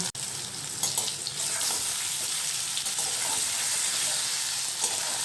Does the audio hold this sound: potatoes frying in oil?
yes